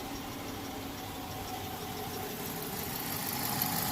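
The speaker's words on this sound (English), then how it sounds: "It's idling down pretty low now. This is the quietest this motor's ever ran." A 2012 pursuit's engine idles low and steady, a continuous close hum with faint valvetrain ticking running the whole length without any talk.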